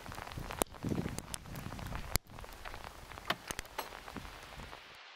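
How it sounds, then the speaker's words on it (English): Hailstones falling outdoors near a cottage in the mountains, scattered sharp ticks and pattering impacts on surfaces at irregular intervals, with a sudden louder crack and a soft rustling bed underneath. "Hailstones."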